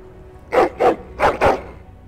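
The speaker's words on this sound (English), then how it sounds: "Angry barking and growling." Dog in the Dragon Age: Origins video game giving four sharp, angry barks in two quick pairs, loud and close with a low growly edge, heard alone with no talk.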